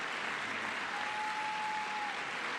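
Steady, dense applause fills a large meeting hall, an even wash of clapping from many hands that holds constant throughout with a faint tone running beneath it.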